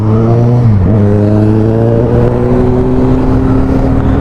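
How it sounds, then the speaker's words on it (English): Yamaha MT-09 triple-cylinder motorcycle engine running steadily up close and loud, a smooth harmonic drone with a brief dip in pitch early on before settling back to a sustained even note. "The motorcycle already sounds sweet, and it's the better sounding of the triple cylinder engines."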